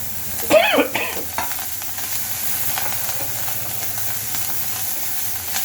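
A light tempering for kara paniyaram being sautéed in a pan, with soft sizzling and a few stirring scrapes near the start, then a steady low frying hiss continuing alone.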